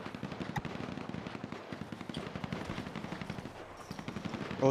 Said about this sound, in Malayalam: വെടിവെപ്പാണ് നടന്നുകൊണ്ടിരിക്കുന്നത്.